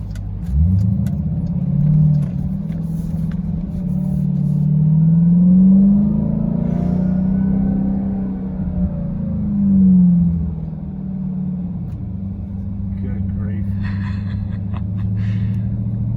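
A 2021 Dodge Durango Hellcat SUV engine rumbles steadily with a deep, loud growl, rising and falling in pitch as it revs while driving, close by and continuous.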